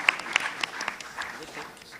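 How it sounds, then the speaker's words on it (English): Scattered audience clapping at an electronics quiz semi-final, a few sharp individual claps thinning out over a couple of seconds, with voices present. "Do clap for Osmania."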